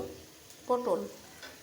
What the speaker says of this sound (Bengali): মশলাটা কষানো হয়ে গেছে, দিয়ে দেবো ভেজে রাখা সেই মাংসগুলো।